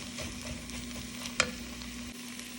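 Vegetables for a Moroccan red lentil soup cook down gently in a pot, a soft, low sizzle with stirring sounds and a single sharp clink partway through, no voices.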